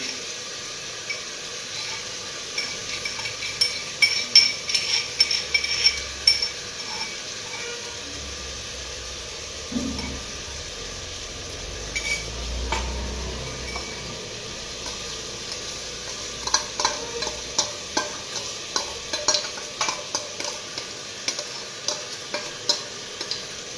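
Chopped garlic frying as a tempering for homestyle desi dal: a steady hiss and sizzle in the pan, broken by repeated rhythmic scraping stirs, heard up close with no talking.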